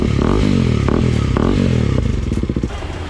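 A KTM motorcycle fitted with a loud full-system exhaust revs hard, its deep throaty roar swelling and dropping in repeated blips before easing into a choppier, pulsing idle near the end.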